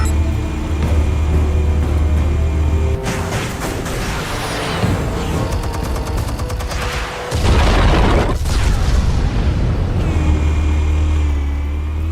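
Explosives detonate in Batman: The Telltale Series, a deep rumbling boom swelling under a low engine-like drone, with a second heavy blast near the end, loud and close.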